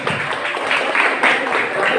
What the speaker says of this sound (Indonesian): Ya, tepuk tangan dulu untuk Cili.